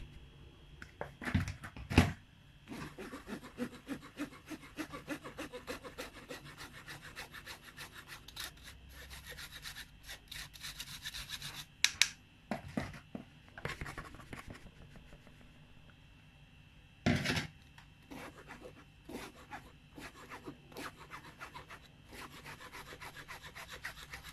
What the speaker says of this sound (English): I'm going to sieve the flour.